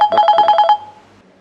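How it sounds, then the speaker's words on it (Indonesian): A telephone rings nearby with a rapid, trilling electronic bell burst of about six pulses, loud and clear, then stops and leaves quiet. "Bunyi telepon tak Om?"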